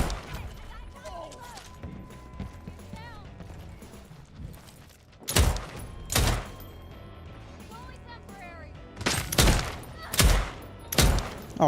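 Gunfire in a roguelite shooter video game: several loud, sharp shots in separate bursts around the middle and end of the clip, cutting through a busy backdrop of game noise and effects.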